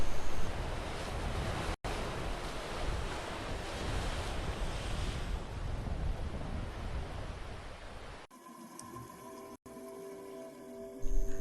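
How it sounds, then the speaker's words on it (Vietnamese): Strong ocean waves surge and roar in a continuous, loud broadband wash, with brief dropouts and a quieter, muffled underwater-like stretch near the end. "Khi sóng mạnh, tình hình dưới nước cũng rất khó khăn."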